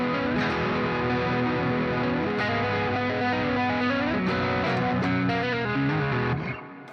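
A distorted electric guitar in open tuning plays a repeating chord riff, thick and sustained, with no voices, fading out at the end.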